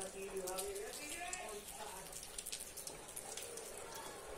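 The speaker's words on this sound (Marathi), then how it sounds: "पाऊस रिमझिम चालूच आहे, मोठा असा नाही पाऊस, बारीकच आहे" Light, steady drizzle patters softly outdoors during monsoon rain, a fine continuous hiss with scattered tiny drop ticks, while a voice talks over it.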